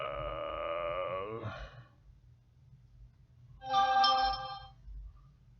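A phone ringtone plays in two short electronic melodic bursts separated by a pause, close and fairly quiet, with a faint low sigh-like sound beneath it and no talking.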